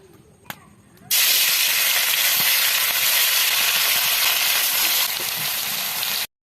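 Churi ribbonfish hit hot oil in a village home kitchen and set off a loud, steady hiss of frying. The sizzle starts abruptly after a faint knock, holds strong for about five seconds and then cuts off.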